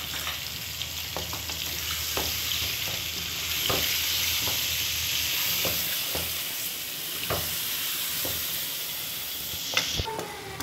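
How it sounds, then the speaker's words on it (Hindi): Chopped tomatoes frying in a pan for chicken biryani give a steady, close sizzle with occasional stirring clicks and scrapes, with no talking. "साथ ही मैं डालूँगी ये 3 से 4 मैंने लिए हैं टमाटर, इनको मैंने काट लिए, ये डाल दूँगी।"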